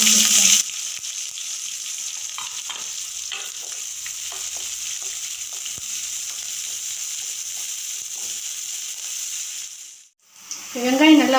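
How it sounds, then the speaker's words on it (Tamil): A medium-sized sliced onion frying steadily with cloves and curry leaves in hot oil for mushroom kulambu, a continuous close sizzle with faint stirring scrapes that cuts out near the end as a voice begins. "வெங்காயம் நல்லா வதங்கிருச்சு."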